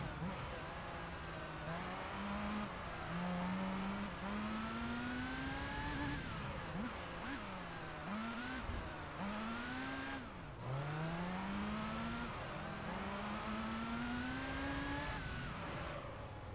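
Race car engine in the video game Gran Turismo 3, whining and rising through gears with repeated shifts and dips, loud and continuous, with a voice talking over it.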